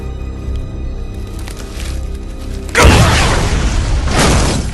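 A sudden loud explosion in the video game Resident Evil 6 bursts in partway through, a broad roaring blast following a low mechanical rumble, then sustaining as a dense rumbling wash.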